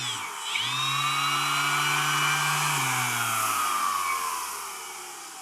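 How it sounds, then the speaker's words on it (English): A Milwaukee M12 sander winds up and runs steadily at top speed, a loud, close, sustained motor whine with a high tonal hum, easing off slightly at the end. "You've got your dial right here at the side of the sander, so this is top speed."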